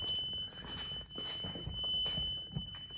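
A high steady tone from an XTRONS backup camera parking sensor, sounding continuously through the moment at moderate level over faint background noise and light rustling.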